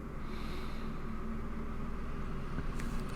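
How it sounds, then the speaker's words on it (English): A steady broadband whoosh of an air conditioner just kicking on, continuous rushing air with a low hum underneath and no voices. "Sorry about the noise, my AC just kicked on."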